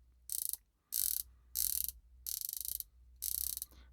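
A unidirectional watch bezel is turned in five separate bursts of rapid ratchet clicks with short silent gaps between them, close up and crisp, with no voices.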